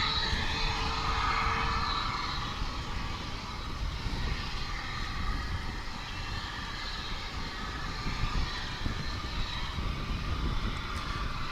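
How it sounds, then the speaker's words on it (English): An American Airlines Boeing 737-800 arriving at Dallas/Fort Worth gives off a steady, broad jet roar from a moderate distance, with no talking. "Another international flight now arriving. It's American Airlines 1034, 737-800, coming in from Guadalajara in sunny Mexico."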